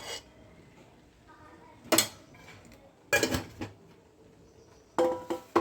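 A metal spoon scrapes and clanks against a pan holding ghee while temple-style sweet pongal is made, giving a few short, loud bursts of clatter separated by near-quiet pauses.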